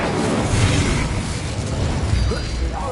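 A fire spell cast in Hogwarts Legacy: a loud, sustained whooshing, roaring blast of magical flame with rumbling low-end booms, continuous and dense for the whole stretch.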